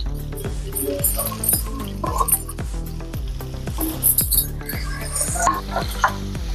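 Spiced paneer cubes, onion and capsicum sizzle and fry in a pan, a steady loud crackle broken by regular scraping and clinking as a spoon stirs the mix.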